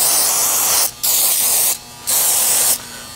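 Silicone spray hissing onto machined Corvair rocker arms in three long, loud continuous bursts with short pauses between, very close.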